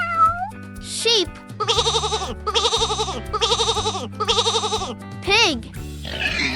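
Four wavering sheep bleats in steady succession, loud and close over a bouncy children's music bed, with a brief voice before and after.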